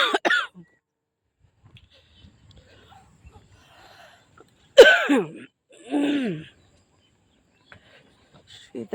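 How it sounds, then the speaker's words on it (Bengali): A person with a cold coughs three times in short, harsh bursts close by, separated by near silence. "অনেক কাশি শুরু হয়ে গেছে, ঠান্ডা কাশি"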